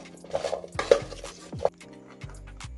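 Seasoned root vegetables and corn are stirred in a cooking pot for Bahamian crab and dough, giving a few close clinks and scrapes of utensil on metal, then quieter shuffling.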